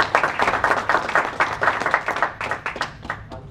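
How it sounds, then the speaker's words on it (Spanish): Applause from an audience at a book presentation, greeting an author as each name is called; a steady patter of many hands clapping, fairly close, continuing for a few seconds before thinning out. "En aquella esquina tenemos a Oscar Arenas, un aplauso para él."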